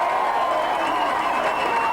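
Rugby league crowd at a Keighley versus Batley match cheering and applauding a try, a steady broad roar of voices and clapping filling the ground without a break.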